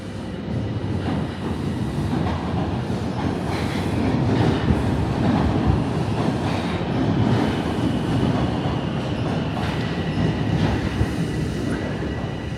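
A subway train rumbles into Toronto's Union Station, a loud, steady roar of wheels and cars with rhythmic clickety-clack and faint squeals running throughout, no voices over it.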